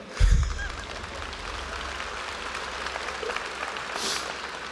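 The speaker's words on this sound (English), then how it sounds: "That's worth applauding" Applause from a crowd at a cyber charter school graduation ceremony, a steady, fairly soft wash of many hands clapping that holds evenly for several seconds, heard alone without talk.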